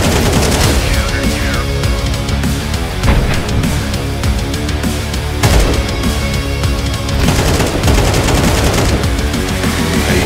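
Rapid rifle spray in a CS2 match at the PGL Copenhagen 2024 RMR, sustained automatic bursts with sharp transients over dense music and game noise, loud throughout with a few heavier shots standing out.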